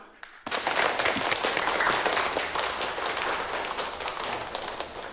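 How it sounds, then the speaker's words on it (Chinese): An audience bursts into applause at a company's closing ceremony. The clapping starts abruptly after a brief quiet, then continues thick and steady from many people before easing slightly toward the end. "请鼓掌"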